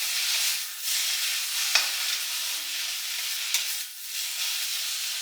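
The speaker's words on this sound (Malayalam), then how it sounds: "ഇനി നമുക്ക് ഇതിനെ ഇളക്കി" Food sizzling in a hot pan is stirred during Kerala-style home cooking, giving a steady close frying hiss with a few sharp scraping strokes of the spoon against the pan.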